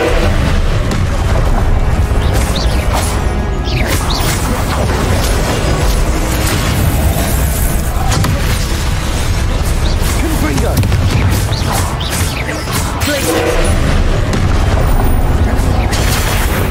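Confringo explosive spells blasting during a Hogwarts Legacy duel, loud continuous booming bursts layered with battle noise and a voice calling out spell names.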